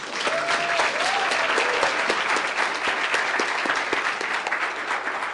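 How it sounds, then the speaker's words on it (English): A big round of applause from a holiday party crowd for a graduate skit, dense and loud, sustained evenly for several seconds with no one speaking. "So can I get a big round of applause for Michael, please?"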